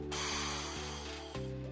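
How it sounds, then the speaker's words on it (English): Silver food coloring sprayed from a can onto hot-shaped caramel spikes, a steady close hiss with two brief breaks between bursts, no talking. "Color the spikes with silver spray food coloring."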